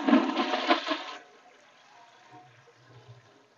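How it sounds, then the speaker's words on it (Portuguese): A newly installed toilet is flushed, giving a loud rush of water for about a second, then a quieter trickle and gurgle as the bowl refills. "vamos, ó, dar descarga para a gente passar água tanto aqui atrás no piso"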